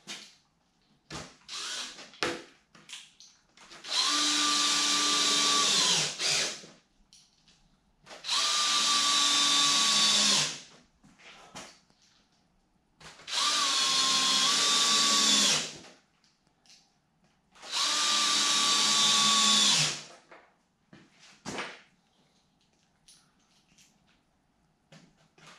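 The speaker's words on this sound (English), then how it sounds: "I just need to run my screws" A power drill runs in four sustained bursts of a few seconds each, driving screws into a wooden gate frame built from a Home Depot Adjust-a-Gate kit, with short clicks and handling noises between bursts.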